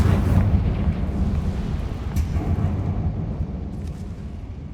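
Confringo fire spell explosion from Hogwarts Legacy, a deep rumbling blast that is loudest at the onset and then rolls on as a sustained low roar, with a faint crackle partway through.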